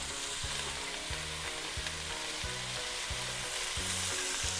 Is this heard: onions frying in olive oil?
yes